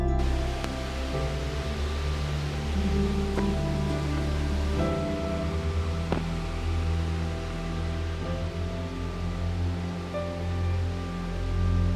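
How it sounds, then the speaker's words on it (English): A roaring waterfall in Wales pours down in a constant, deafening wash of broadband noise that fills the whole clip steadily with no pauses. "A waterfall, and the noise is deafening."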